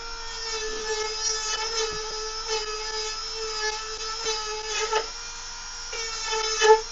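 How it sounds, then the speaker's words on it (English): A power sander with a worn sanding pad whines steadily with a high, buzzing drone, its pitch wavering slightly and small knocks and scrapes breaking in now and then. "Might need a new sanding pad on that in a minute."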